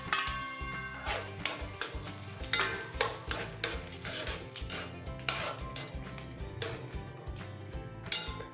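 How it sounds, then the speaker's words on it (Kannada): Dry fruits fry in ghee in a kadai for bottle gourd halwa, with a soft steady sizzle under repeated metallic clinks and scrapes of a spoon stirring against the pan, close and fairly quiet. "ಇದರಲ್ಲಿ ಡ್ರೈ ಫ್ರೂಟ್ಸ್ ಹಾಕ್ಕೊಂಡು ಫ್ರೈ ಮಾಡ್ಕೋಬೇಕು."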